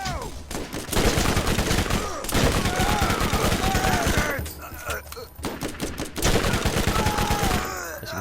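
Assault rifle fire in the shooter game Borderlands comes in loud rapid bursts of sharp shots, with several volleys separated by brief pauses.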